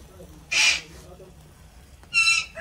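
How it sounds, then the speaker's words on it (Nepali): A parrot screeches in two loud, harsh bursts about a second and a half apart, close by in a quiet home while bread is being cooked. "सुगा फेरि अति कराउँछ सुगा"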